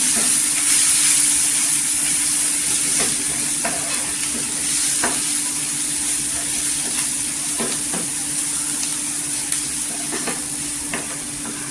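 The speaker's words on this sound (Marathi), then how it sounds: "मसाले छान असं तेलावर परतून घ्यायचं।" Kashmiri chili powder, turmeric, coriander powder and homemade spice mix sautéing and stirred in hot oil for a green mung bean curry, a steady close sizzle with a loud hiss and repeated spoon scrapes.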